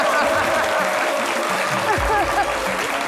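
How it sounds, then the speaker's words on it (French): A crowd applauds steadily at a French-language event, a dense, even wash of clapping that runs throughout, with an announcer's voice briefly heard over it. "Merci de l'applaudir aussi."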